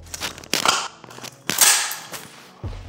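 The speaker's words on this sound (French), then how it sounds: "Chargement complet de l'arme." An assault rifle is fully loaded, a few sharp metallic clacks and snaps of the magazine and charging handle, close and fairly loud with short pauses between, and no talking.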